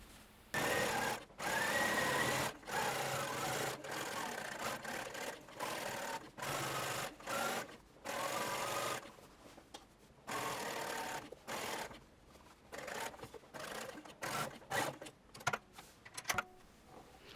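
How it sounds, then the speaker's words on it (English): A sewing machine stitching around the edges of dress pocket bags, running in close bursts of rapid mechanical whirring separated by short pauses, faster and choppier toward the end. "I will be machining around the edges and then trimming and neatening."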